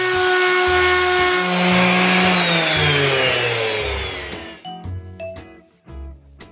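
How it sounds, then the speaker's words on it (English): A power tool sands deep scratches and gouges out of the metal of an antique gauge, whining up in pitch at first and then breaking into short, choppy bursts of grinding, close and loud. "I'm going to sand them out and then highly polish the entire gauge."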